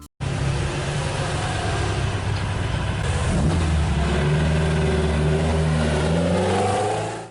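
A 1.5-liter flat-four engine in a Porsche 550 Spyder with a lightweight aluminum body runs steadily loud and close, then climbs in pitch as it revs up over the final seconds.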